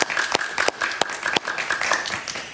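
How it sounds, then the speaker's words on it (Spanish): A television studio audience on a talk show claps in a lively burst of applause, with individual sharp claps standing out from the steady clapping for a couple of seconds before it trails off. "Un aplauso para él, por favor."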